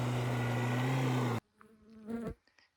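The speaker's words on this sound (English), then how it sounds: "ignore the rude flies buzzing across the camera" Flies buzz right up close outdoors at sunset in the Australian bush, a loud steady droning hum that cuts off abruptly, followed by quieter, scattered sounds.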